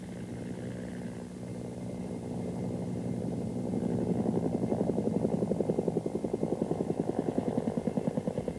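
Two Bell AH-1 Cobra helicopters preparing to dive, a steady low engine drone and rotor roar that swells midway into a loud, rapid rhythmic blade thumping, continuous throughout with no talk.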